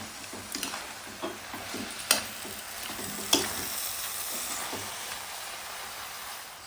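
Spinach stirred in a hot pan with chilli and cumin powder, a steady broad sizzle carrying scraping spoon strokes and a couple of sharp clicks against the metal, close and fairly quiet, with no talking.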